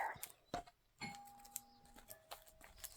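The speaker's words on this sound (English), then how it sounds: "Every time I'm on here, somebody's ringing a doorbell." A doorbell chimes indoors with two sustained electronic tones ringing out clearly, following a few soft clicks and bumps, moderately loud against a quiet room.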